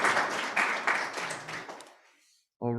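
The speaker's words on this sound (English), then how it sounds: "can we give another round of applause for Wayne?" Audience applause for a poet at an open-mic poetry night, a dense crowd clapping that swells then tapers off over about two seconds before a voice cuts in at the end.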